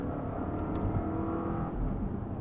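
A 2018 Volvo V60 Polestar engine hums and builds as it revs, a steady droning whir heard from inside, moderately loud with no talk.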